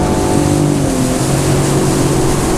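A Sea-Doo Fish Pro Trophy personal watercraft throttles up on open water after leaving a no-wake zone, with a loud, steady engine drone and rush of water close by, no talk.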